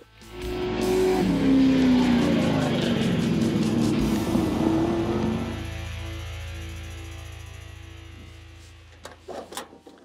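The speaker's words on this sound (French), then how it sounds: "Un gros moteur V8, un petit camion, bien de la puissance." A Chevrolet C10 pickup's big V8 roars loudly and up close for several seconds, then settles toward a lower idle-like rumble before fading, with a few faint knocks at the end.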